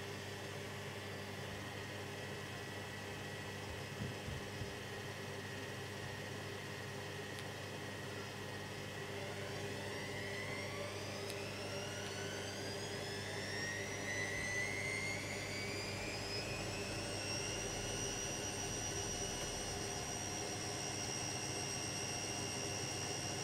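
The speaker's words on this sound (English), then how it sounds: "This machine's only got 2 minutes to spin anyway." A Zanussi ZWG7160P washing machine on a final spin for coloureds steadily winds up, its motor whine rising in pitch over a constant drum rumble, moderately loud and alone.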